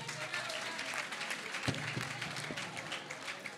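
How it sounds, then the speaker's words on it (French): Audience at a slam poetry final applauding, a soft, steady wash of clapping from a crowd that holds at an even level throughout. "Applaudissez, s'il vous plaît."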